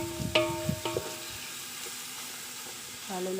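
Spaghetti Bolognese sauce is stirred in a pan. A soft, steady sizzle runs under a few sharp spoon scrapes and clinks near the start, then goes on quietly.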